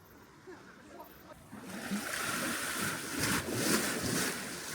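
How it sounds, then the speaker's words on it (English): Waves wash and splash onto the seashore at Goodrington at night, a steady broad rush rising in the second half, with wind noise on the microphone and no talking. "Nice reflections as we listen to the waves splash on the seashore."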